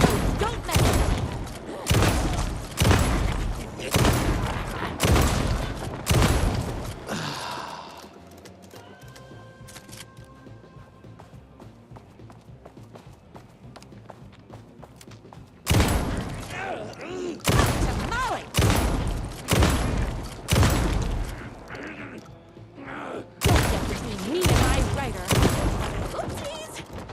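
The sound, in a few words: gunfire in the video game Alan Wake 2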